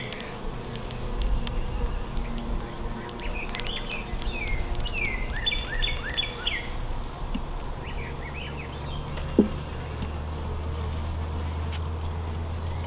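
Honey bees buzz in a continuous drone around an open hive during an inspection of a new colony. The hum is close and steady, with faint chirps now and then and one brief knock.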